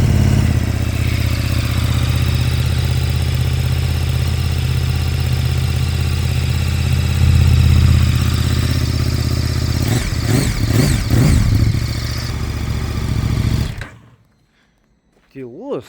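A KTM 1290R gen 3 motorcycle engine idles steadily and close by for most of the clip, with a few quick revs near the end before it cuts off into near silence.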